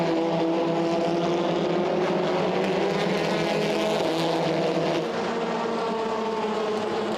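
Audi TCR touring race cars, a newer and an older one, race nose to tail with rivals at the Hungaroring, engines blaring loud and close in a dense overlapping roar with shifting pitch as they pass.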